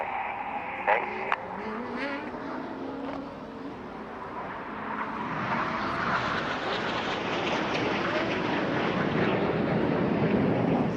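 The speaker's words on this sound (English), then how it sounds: "Getting very dizzy with the red smoke on is Red 5, Flight Lieutenant Steve Morris" Red Arrows Hawk jet flying a display with red smoke at an air show, a distant jet roar building steadily into a loud sustained rush, with a commentator's voice and crowd noise faint underneath early on.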